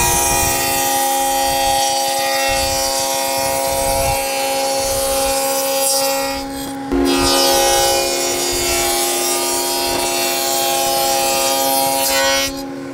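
A router cutting dados 1/4 inch deep and 3/4 inch wide in wooden boards gives a steady, loud high-pitched whine, with short dips near 7 and 12.5 seconds as it passes the wood.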